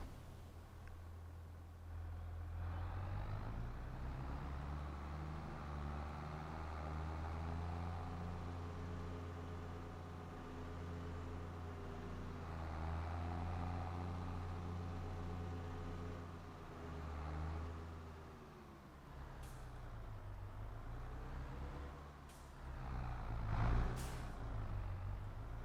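A farm vehicle in Farming Simulator 22 drives with a steady low engine drone that rises and falls in pitch as it speeds up and slows, then a few short clicks and knocks near the end.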